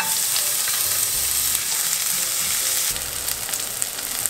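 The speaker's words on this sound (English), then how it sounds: "Once your pan is hot, you want to just add a little bit of oil. Toss in the peppers." Peppers hit hot oil in a pan and fry with a loud, continuous close sizzle, with brief shifts as they are tossed and stirred.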